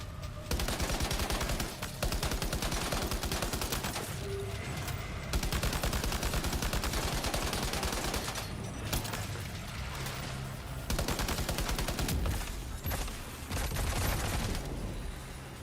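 Rifle gunfire in a shooter video game, with long, rapid bursts of shots and heavy fusillades running almost without a break, loud and close throughout with brief pauses between volleys.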